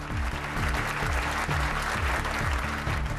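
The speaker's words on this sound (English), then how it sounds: "a rare show of unity in the Commons and applause for the Ukrainian ambassador." Members in the House of Commons break into sustained applause for the Ukrainian ambassador, a thick, even wash of clapping from a large chamber with a faint low hum underneath.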